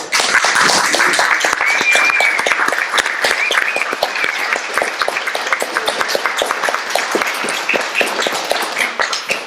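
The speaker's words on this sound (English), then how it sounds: "everybody in the kitchen, I want you to give a round of applause" A community center gathering at a 50th anniversary celebration gives the kitchen staff a loud, steady round of applause, dense clapping from a large crowd sustained throughout without a break.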